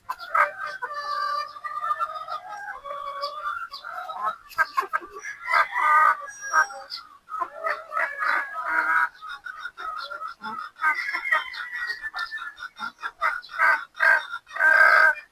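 Pullets and gamefowl on a game farm, with roosters crowing repeatedly and hens clucking in a busy, close chorus that continues throughout with no talk over it.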